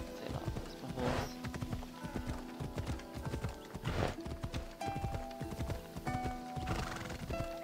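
Rhythmic hoofbeats clip-clop steadily throughout, with a horse whinnying a few times over the trotting, from the video game Assassin's Creed Odyssey, clean with no voices.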